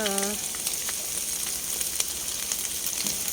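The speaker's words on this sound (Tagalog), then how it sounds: "Lagay ko na yung mga gulay na pinagsama-sama ko na." Mixed vegetables sizzling in a hot pan, a steady crackling fry close up with small pops and a brief stir, following a short tonal beep at the very start.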